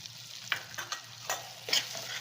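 Tomatoes and chili powder sauté in a hot pan, crackling steadily while a spoon scrapes and stirs in several distinct close strokes.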